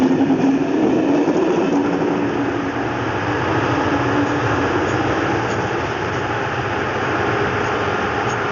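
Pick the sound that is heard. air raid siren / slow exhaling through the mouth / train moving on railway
train moving on railway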